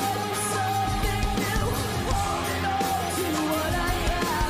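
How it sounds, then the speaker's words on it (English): A loud rock performance with a sustained yelled vocal over dense guitars and drums, steady throughout with no speaking. "God, what a scream."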